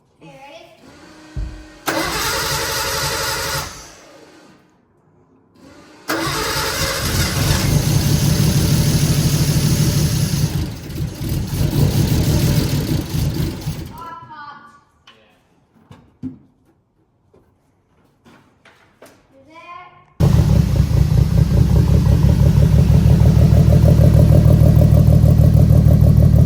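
Nissan RB20DET engine in a car cranks and fires for its first start, running loud in bursts with revving, then cutting out before restarting to a steady roar; voices and workshop sounds fill the gap between runs.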